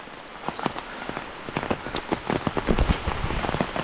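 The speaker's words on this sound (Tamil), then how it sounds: "இப்போ மழை பெய்யுது" Steady rain falls during a walk across Sri Lanka. It patters with many close, crackling drops that grow heavier toward the end, and no voices are heard.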